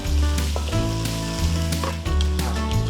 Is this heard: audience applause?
no